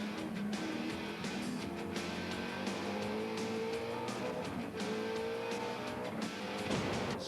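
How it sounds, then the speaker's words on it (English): V8 touring race cars from the 1993 Eastern Creek Supercars race roar through corners close together, engines revving and shifting pitch continuously with layered passes and faint tire squeal, heard at a distance with no talk. "They come to see big cars going through corners very close together,"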